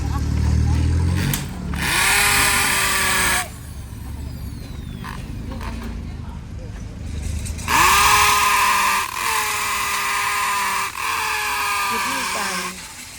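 Power drill boring through corrugated zinc roofing sheet to make holes for nails at a market, loud whining bursts that start and stop, with a voice talking underneath.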